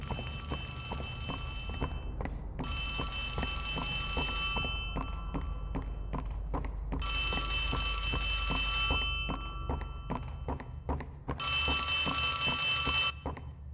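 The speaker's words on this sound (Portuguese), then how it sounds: "você ouve um telefone tocando" A telephone rings in the horror video game Poppy Playtime Chapter 3, sounding in three long bright bursts separated by pauses, over a steady low ambient drone and scattered dull thumps.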